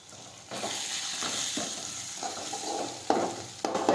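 Cumin, turmeric and crushed garlic chutney are stirred in a hot pan for urad dal, giving a steady sizzle broken by several sharp scraping strokes of a spoon, close and fairly loud with no talking.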